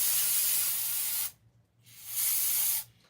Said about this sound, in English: A little bit of brake clean on this sucker